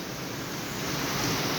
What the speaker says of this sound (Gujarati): એકદમ ધોધમાર વરસાદ પડે છે